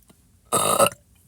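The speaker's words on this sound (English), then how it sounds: "Came the noise of a loud belch." A single loud, raspy belch played back from a Talkboy tape recorder, lasting under half a second, close and prominent against near silence.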